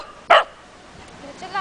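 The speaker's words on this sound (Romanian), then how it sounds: "Nu mai lătra aiurea." A dog at home gives one sharp, loud bark near the start, followed by quieter, faint sounds and a little background noise.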